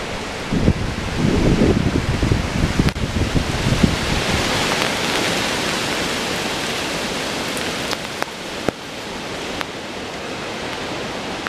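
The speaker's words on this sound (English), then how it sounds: "We just had a gust that just ripped through here." Strong wind gusts buffet the microphone just below a mountain summit in California, a loud, broad rushing roar that surges early and then settles into a steadier blustery whoosh with a few sharp knocks.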